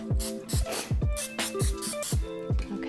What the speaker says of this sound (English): And then I'm gonna spray it again, making sure I get in those corners.